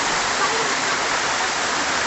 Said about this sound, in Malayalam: ആ കുഴിയിൽ വെള്ളം വീഴുന്നു